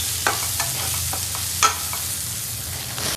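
Besan roasting with garam masala in a pan for a spinach dish, stirred steadily, giving a continuous soft sizzle with a few light scraping taps of a spoon, close and fairly loud.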